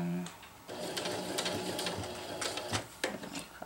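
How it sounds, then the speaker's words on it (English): A sewing machine stitches a hammock tie-out in short close bursts of rapid mechanical chatter, starting and stopping, with quiet talk around it. "Sew up again."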